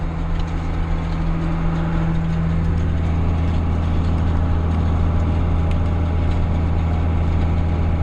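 Tractor engine running at about 1650 RPM while pulling a hay tedder through a field at a slow pace, a steady, loud, low droning hum that holds constant throughout with no talking.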